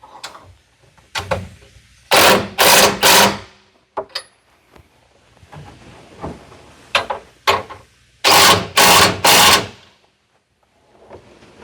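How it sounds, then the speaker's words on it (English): Two 3/4-inch nuts on carriage bolts being tightened on an NXG through-frame slide ram: two loud clusters of rapid mechanical bursts, each about a second and a half long, with quieter clanks and knocks between them and no talk. "I'm going to tighten up those two bolts that I loosened up, those two 3/4 nuts in the carriage bolts."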